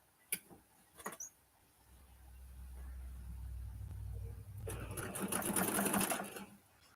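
A sewing machine stitching fabric for a fall table runner, starting with a couple of clicks, then a low steady hum that builds into faster, louder rattling stitching near the end.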